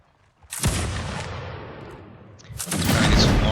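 Gunfire in a Mount & Blade multiplayer league battle, with a loud broadband burst of shots near half a second that decays over a second, then a second dense volley near the end, no talking.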